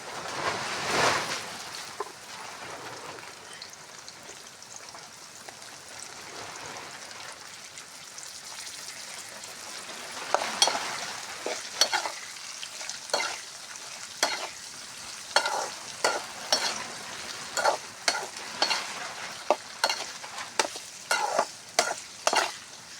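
Onions fry in a pan for Bombay togate soppu chitranna, a soft, steady sizzle broken by a run of scraping stirs that come more often and more rhythmically in the second half.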